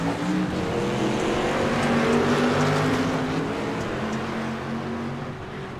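Street stock race cars rev their engines together before a race start at Daytona, a loud, dense, continuous roar of several motors that holds steady with no voices.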